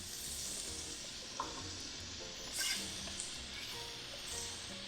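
Onion and peppers hit a pan of browning picadillo meat, raising a steady, close frying sizzle with a soft hiss throughout and a few small pops and crackles.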